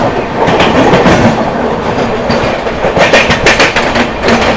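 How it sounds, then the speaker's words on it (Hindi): Mahabodhi Express carriages rattle and clatter over the rail tracks, a loud, close, continuous rumble with rhythmic clickety-clack wheel beats and no voices. "बढ़िया वाला ट्रैक साउंड आ रहा है यहाँ"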